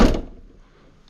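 The tailgate latch on a 2009–2012 Mazda 6 GH wagon shuts with one short, solid thunk at the start, followed by near silence.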